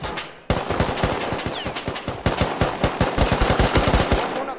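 Rapid automatic gunfire from a video game PvP fight, loud and close, firing in a steady burst of sharp shots that keeps going without a break.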